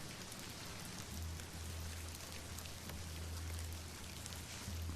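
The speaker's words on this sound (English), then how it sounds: "it's raining cats and dogs" Rain in the video game The Excavation of Hob's Barrow, a steady faint hiss of dense rainfall spattering on surfaces, continuous throughout with a soft low rumble underneath and no voices.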